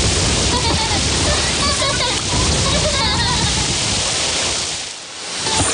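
Water splash effect in a spring radio advert for Blue Valley internet: a continuous wash of splashing, rushing water over several seconds, dipping briefly near the end, with voice-like sound blended into the mix.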